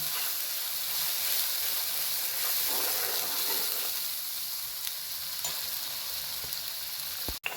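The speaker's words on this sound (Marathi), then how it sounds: "आता आपण हे छान परतून घेणार आहोत त्याला आपण दोन ते तीन मिनिट छान परतून घेणार आहोत" Spice masala sizzles and fries in a pan while being sautéed for a monsoon wild-vegetable dish of spine gourd, a soft steady hiss with light stirring scrapes and a sharp clink near the end, no voices.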